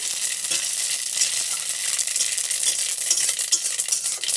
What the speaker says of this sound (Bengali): তো এখানে দিয়ে দিব শুকনো লঙ্কা ফোড়ন দিয়েছি, আর দিয়ে দিব এখানে সরষা আর মৌরি। তো সেটাও ফোড়ন দিয়ে দিলাম। এগুলো একটু লাল লাল করে ভাজবো।